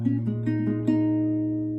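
Acoustic guitar picks a quicker run of the first-section pattern from a song, a handful of close, ringing plucked notes, the last one left to sustain.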